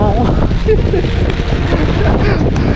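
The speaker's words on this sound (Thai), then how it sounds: "โอ้ ลม ลมหนาว" A cold winter wind on a street in Myeongdong, Seoul, buffets the microphone hard, making a loud, rumbling roar that gusts and flutters continuously.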